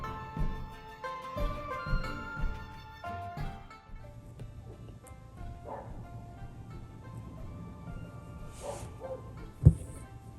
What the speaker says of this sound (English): I think that dog have some kind of problem.